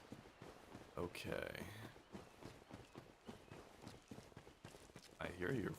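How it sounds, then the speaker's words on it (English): Faint, regular footsteps pad along in Dark Souls, steady soft thuds heard quietly beneath a person talking. "I hear your footsteps behind me"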